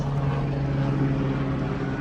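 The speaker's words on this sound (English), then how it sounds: "Whatever the police helicopter it is. It's gonna fly directly over my house." A police helicopter passes overhead above a house, its steady, loud rotor and engine drone holding constant throughout with no speech.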